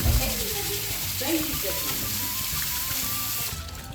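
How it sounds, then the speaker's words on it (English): Prawns rinsed and washed under a running kitchen tap, a steady close splash and gush of water running for several seconds while people talk over it. "Just give them a rinse and wash."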